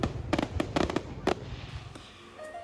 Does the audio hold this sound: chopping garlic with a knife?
no